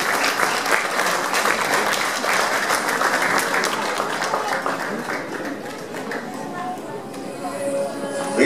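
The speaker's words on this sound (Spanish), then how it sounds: "Un aplauso, por favor." Sustained audience applause fills a university graduation ceremony, steady and dense for the whole stretch, with a few voices mixed into the clapping.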